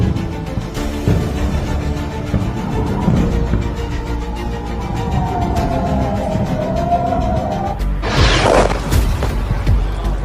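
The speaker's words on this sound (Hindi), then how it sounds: "बहावलपुर में 4 खौफनाक धमाके सुनाई दिए हैं।" A blast in Bahawalpur, Pakistan, lands as a single loud, sudden burst near the end, preceded by a drawn-out wavering wail over a constant low rumble.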